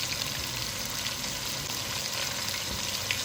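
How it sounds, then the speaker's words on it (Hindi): Whole cloves, black pepper, cumin and coriander seeds fry in a mixture of oil and yogurt for biryani, giving a steady, close, even sizzle with no break. "तेल और दही के मिश्रण के साथ बढ़िया से लपट के भूनने देंगे थोड़ी देर के लिए"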